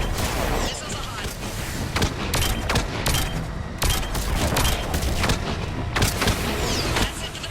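Missile salvo in Mass Effect 3, a dense run of loud booming launches and blasts over a rumbling low roar, repeating irregularly throughout with some voice mixed in.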